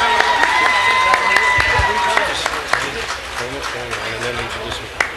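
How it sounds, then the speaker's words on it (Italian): An outdoor crowd at a Columbus Day parade and entertainment show applauding a singer, scattered clapping with a few sharp louder claps, while a voice and background talk carry on over it. "Un bel applauso, signori, vai!"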